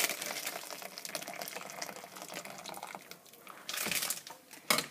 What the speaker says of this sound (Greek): θα ρίξετε το νερό μέσα στο βραστήρα μαζί με τη σκόνη μας.